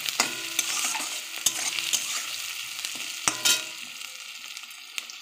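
Onions with a ground paste of onion, ginger, garlic and dried chilli fry and are stirred in a pan for a potato-and-chicken curry, a steady close sizzle broken by sharp clacks of the spoon against the pan.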